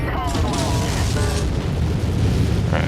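Long Tom cannon fire in the mech combat game MechWarrior, heavy booming blasts with a continuous low rumble throughout, loud and close, with some speech-like sounds mixed in.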